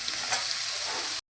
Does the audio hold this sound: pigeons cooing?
no